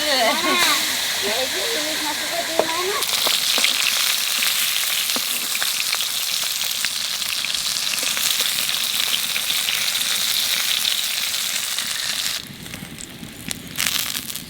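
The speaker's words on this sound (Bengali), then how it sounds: "কাকিমা দিয়ে ঘাটকল পাতাটা ভাজছে" Steady, loud sizzling of ghatkol (arum) leaves frying in hot oil, a constant crackling hiss with brief voices at the start and a quieter stretch near the end.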